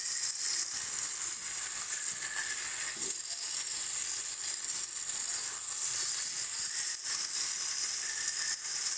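Fried potatoes sizzling steadily in a pan while spices are stirred through them, a constant bright hiss with occasional soft scrapes and stirring knocks, close and without talk.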